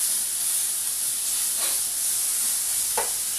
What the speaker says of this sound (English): fry them up real quick. Not too crisp, but you do want to fry them up a little